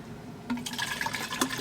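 Water pours into a cup or kettle for bulletproof coffee, a short trickling fill that swells in the middle and carries on at a steady, close, fairly quiet level.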